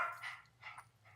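A dog barking indoors at home, three short, quiet yips in quick succession against a low background hum.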